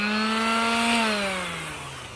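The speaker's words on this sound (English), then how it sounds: "Now we just have to sand this down a little bit" A power sander working the wood of a homemade DIY balance board gives a loud, close, steady motor whine that slowly winds down in pitch near the end, with no one talking.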